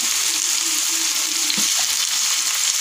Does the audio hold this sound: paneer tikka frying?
yes